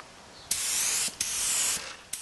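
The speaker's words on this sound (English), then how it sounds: "Now I've finished spraying." Close hissing bursts of nitrocellulose lacquer spray onto a wood-turned piece, three of them, each with a sharp onset and a steady whoosh.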